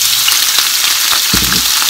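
Konnyaku and red pepper frying in a pan, a steady close sizzle with a few stirring scrapes and a clunk near the end, no voices.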